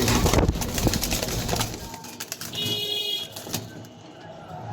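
Jalali pigeons at a pigeon farm coo softly in short, scattered bursts, mixed with rustling and clattering noises nearby and faint talking in the background.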